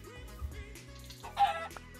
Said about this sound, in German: Hier ist auch noch ein Huhn.